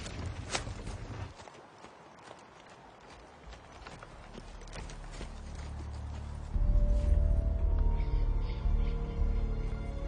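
Horse hooves clip-clop steadily on the ground in a movie scene, moderately close, with ambient background growing louder near the end.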